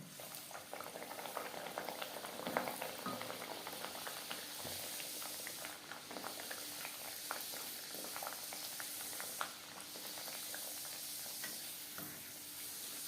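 Pea-stuffed kochuri frying in hot oil, a continuous faint bubbling sizzle with scattered pops and light utensil taps throughout, no talk.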